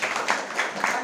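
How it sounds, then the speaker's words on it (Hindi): A group claps for a child who has just spoken, a short round of soft applause with a few rhythmic swells. "प्रथम जन के लिए तालियां"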